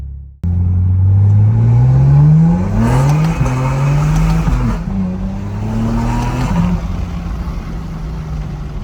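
BMW G87 M2 tuned to run on E85 fuel accelerating hard, engine note climbing loudly through the revs with quick gear shifts and brief dips, close and dominant throughout with no talk.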